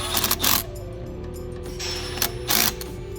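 Tightening the manual 4x4 hub lockout on a Ford F-250/F-350 Super Duty truck gives a few close, mechanical ratcheting clicks, with two brief louder bursts of turning and clatter and no talking.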